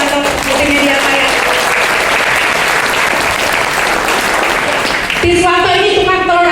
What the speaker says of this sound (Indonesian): tepuk tangan Pak Tiswanto di media saya